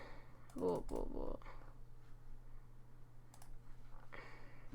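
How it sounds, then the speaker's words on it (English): Account details are typed on a computer keyboard, with quick, light clicks scattered through the moment. A brief voice-like sound comes near the start, and a low steady hum runs underneath. "So you're gonna type in your account details, your forum details"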